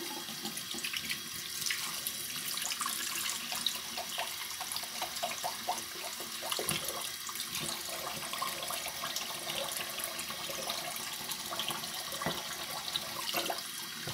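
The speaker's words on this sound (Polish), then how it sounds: "W tym czasie myję pędzelek." Tap water runs steadily into a sink while a shaving brush is rinsed under it, a continuous splashing flow with faint clatters, close and alone.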